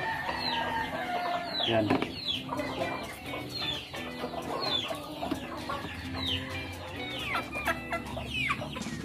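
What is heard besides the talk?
pet chickens clucking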